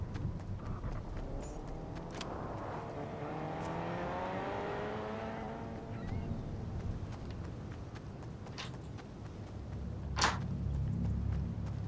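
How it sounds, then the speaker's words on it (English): A car engine in a video game hums and revs. Its pitch sweeps up and down in rising and falling whines against a low background rumble, with a few sharp clicks. "But I could hear a car there."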